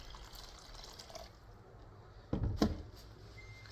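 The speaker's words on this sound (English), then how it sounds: "And I'm just gonna add a little more hot water." Quiet running water in a room, then a brief louder splash and gush of hot water poured into a bath before it settles back to a soft trickle.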